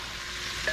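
Herbs swished around in a hot pan as pork chops in mushroom sauce are cooked, giving a brief steady sizzle with a soft stirring scrape close by.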